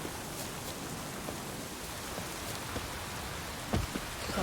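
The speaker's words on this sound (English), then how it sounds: "Proper downpour this is." Heavy rain pouring in The Witcher 3 game world, a constant dense hiss of falling water with scattered nearer drops and a brief louder patter near the end.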